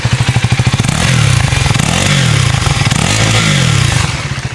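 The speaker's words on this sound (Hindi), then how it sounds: "मैं आपको सुनाता हूँ ड्यूक 390 का एग्जॉस्ट नोट। तो गैस इसका आइडल साउंड कुछ ऐसा है" A KTM Duke 390 motorcycle idles up close with a loud, pulsing exhaust thump, then rises briefly into a revving swell around the middle before dropping back to the rhythmic idle, with no talk.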